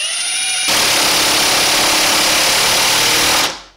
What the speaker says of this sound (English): now the Hitachi